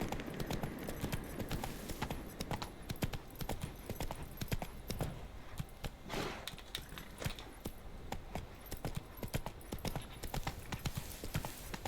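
Roach, a horse in The Witcher 3, gallops with a steady, fast clip-clop of hooves that runs the whole time, close and loud over a dense game soundscape.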